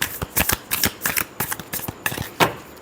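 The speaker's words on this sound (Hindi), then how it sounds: "last shuffle" A deck of tarot cards riffled and shuffled up close, rapid papery flutters in quick bursts, loud and alone.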